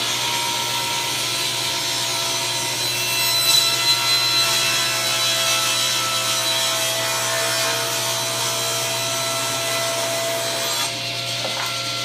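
Hand saw cutting a taper along a wooden board, steady back-and-forth rasping strokes continuing close and clear for the whole stretch with no talking.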